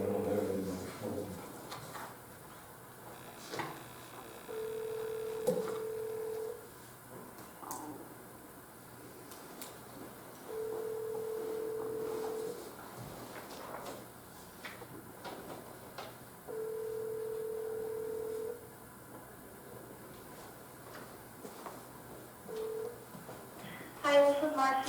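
A phone line rings on speaker: repeated steady ring tones with long pauses between them, over quiet room noise and faint clicks.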